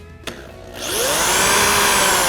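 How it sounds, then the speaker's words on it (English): A power drill boring holes and driving screws into wood for a sculpted rocker's back leg joint, a brief knock then a steady loud whirring motor that runs on alone. "Pull it out, drill the next one, drive the screws"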